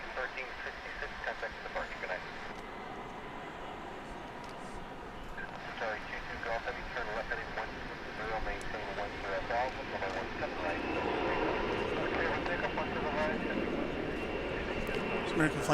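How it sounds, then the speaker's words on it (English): An American Airlines Airbus A321 arriving on a landing approach at Dallas Fort Worth airport, a distant jet engine roar that swells gradually louder toward the end, with people talking over it throughout. "It's American Flight 1599, Airbus A321 coming in from Las Vegas."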